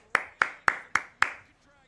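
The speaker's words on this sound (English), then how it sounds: "Round of applause, ladies and gentlemen." Five sharp, evenly spaced hand claps from a single person close by, a slow deliberate round of applause that stops abruptly.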